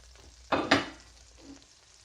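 Celeriac, onion and potato sautéing in melted butter in a pot, a quiet sizzle with two sharp bursts as vegetables hit the hot fat or are stirred, then a fainter scrape.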